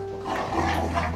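A dog or two barking close by in a short, rough burst, loud and alone for just over a second.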